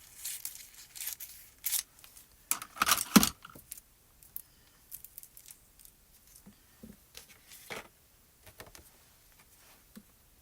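Paper card being trimmed down during card making, a series of short dry snips and rustles, close and quiet, with brief louder cutting bursts near the start and scattered handling sounds afterward.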